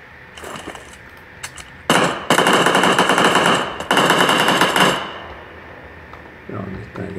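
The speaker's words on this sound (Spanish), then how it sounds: "me está disparando desesperadamente" Rapid automatic gunfire in the video game PUBG Lite, loud bursts of shots, two long sustained volleys near the middle, with short scattered shots before and faint talk afterward.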